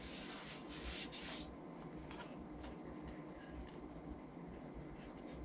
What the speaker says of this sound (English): Smoothing out the outside